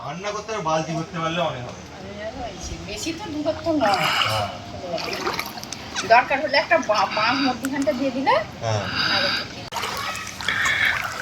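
Someone wades through waist-deep floodwater over submerged farmland in Udaynarayanpur, with steady sloshing and splashing close by while people talk over it.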